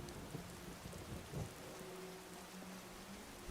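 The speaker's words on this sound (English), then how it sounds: "Like, bro, lightning literally landed right next to me." Rain and thunder in the video game Skyrim with the Lorerim modpack: a soft, steady rain hiss with low rumbling thunder, quiet and distant, and no voices.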